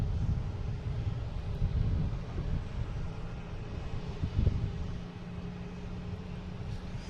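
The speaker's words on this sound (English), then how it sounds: "We got a bunch of planes just bundled up down here." Jet aircraft at Boston Logan International Airport make a steady, distant low roar with wind rumble across the microphone and no talking.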